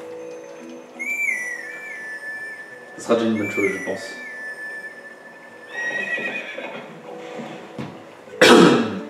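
Horse whinnies and clip-clop hooves in Zelda Twilight Princess after the horse is called, a loud neigh followed by hoof sounds, with someone talking in French over and between them.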